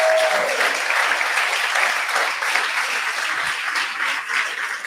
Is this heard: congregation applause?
yes